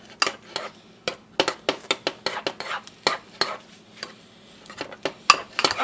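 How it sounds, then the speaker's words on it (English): Spoon stirring a mayonnaise and sour cream dip in a bowl, giving a quick series of close, sharp clicks and scrapes against the bowl in an uneven rhythm, with no talking. "I would mix it until the mayo and the sour cream is nice and mixed"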